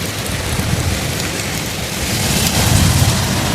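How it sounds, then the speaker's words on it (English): Heavy rain from Hurricane Beryl splashes down outdoors in a dense, steady roar of water hitting surfaces, growing slightly louder toward the end. "The way in which it's throwing the trees about, and the water, the rains are just splashing."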